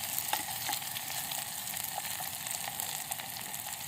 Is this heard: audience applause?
no